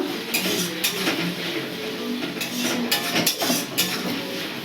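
Yogurt curry with pointed gourd is stirred and fried in a pan: a steady, loud sizzle runs throughout, punctuated by metallic clinks and scrapes of the spoon against the pan.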